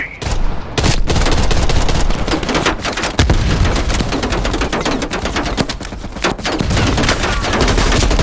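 Dense, continuous machine gun fire in the Call of Duty Black Ops video game, rapid bursts packed together with occasional louder shots, loud and steady throughout a battle at a Soviet radar facility on the Solovetsky Islands.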